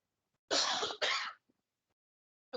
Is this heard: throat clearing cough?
yes